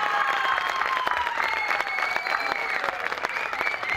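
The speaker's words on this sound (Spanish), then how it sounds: "Quiero pedirle un fuerte aplauso, por favor" Audience at a live band concert clapping, a sustained close burst of applause with a few faint cheers, while a sustained musical tone carries on underneath.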